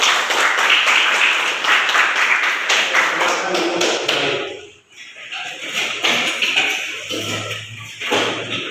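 Class of students clapping hands together, dense loud applause that breaks off briefly midway, then scattered claps and thumps resume, with voices in the room.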